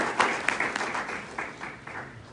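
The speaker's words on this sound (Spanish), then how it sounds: "¿Cuánto le dan un aplauso fuerte a Dios?" A church congregation gives a loud round of applause to God during a Spanish-language sermon, a brief burst of scattered claps and raised voices that thins out after a couple of seconds.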